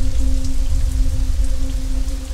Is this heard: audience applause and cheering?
no